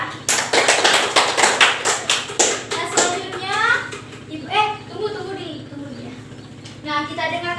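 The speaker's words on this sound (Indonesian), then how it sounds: "Kita beri tepuk tangan dulu ya." A classroom of pupils claps in quick rhythmic bursts for a student group, loud and close for the first few seconds, then fading as a teacher's voice speaks over a steady background hum.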